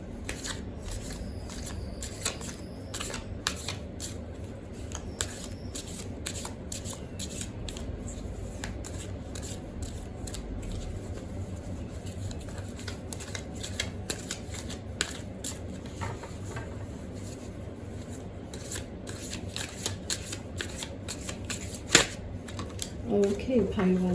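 Tarot cards are shuffled steadily and close up in a rapid riffling patter, with soft continuous flicks running through the whole stretch and a few louder handling knocks near the end.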